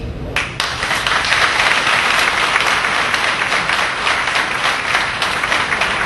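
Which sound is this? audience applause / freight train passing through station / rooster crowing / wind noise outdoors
audience applause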